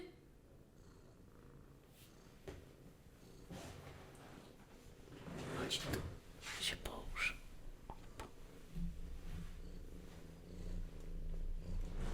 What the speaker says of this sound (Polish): Słyszycie, jak mruczy?